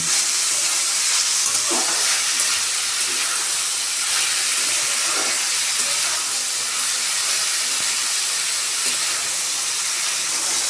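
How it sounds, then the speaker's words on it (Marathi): Green beans sautéing in oil with tomatoes give a steady, dense sizzling hiss throughout, with a few soft stirring scrapes rising above the constant frying noise. "आता आपण शेंग चांगली तेलामध्ये आणि टोमॅटोमध्ये परतून घेऊया."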